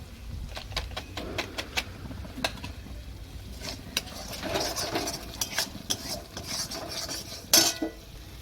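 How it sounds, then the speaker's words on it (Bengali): A spoon scrapes and stirs spice masala in a pan for Bengali doi katla, with Kashmiri chilli powder added: soft, irregular scraping clicks close by, growing busier and louder toward the end. "এবার একটু নেড়ে নিই।"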